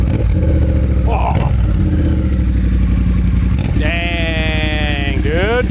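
Triumph Bobber motorcycle with a replacement exhaust idling with a steady low rumble, blipping briefly, then revving up and falling back near the end; people talk over the engine throughout.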